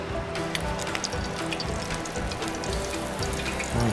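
Hands are washed under a running kitchen tap while eggplant fries in a home kitchen, the water pouring in a steady, close splashing stream with small shifts in flow and a louder gush near the end, and no talking.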